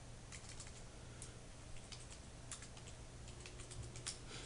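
Someone types on a computer keyboard in a clinic management system, a quiet run of scattered soft key clicks over low background hum.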